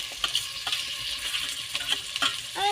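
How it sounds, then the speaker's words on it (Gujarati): Garlic, chillies and chopped tomatoes sizzle and fry in a pan after onions, a steady crackling hiss broken by a few scraping stirs, close and moderately loud with no talk. "તો અમે નાખી રહ્યા છીએ લસણ, મરચાં અને કાપેલા ટમેટા."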